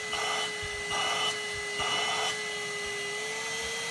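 A Cocbny cordless vacuum cleaner runs with a steady, close motor whine and a constant high tone, its airflow rising and falling in three brief surges before settling into an even hum.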